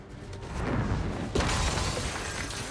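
Sugar glass shattering on a movie film set, a loud crashing burst of breakage layered over a noisy rumble, with a sharp renewed crack midway followed by lingering debris noise.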